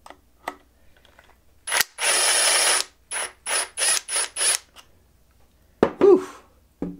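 Hand coffee grinder fitted with a motor, grinding the last of its beans in short bursts: a sustained whirring crunch followed by several brief ratcheting pulses, then a couple of faint clicks.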